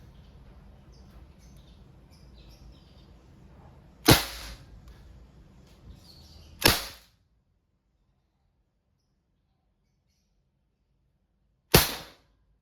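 Three sharp, isolated cracks from an Umarex Glock 19 non-blowback airgun pistol firing with a direct trigger pull, the first two close together and the last after a long pause, over low background rumble that falls to near silence.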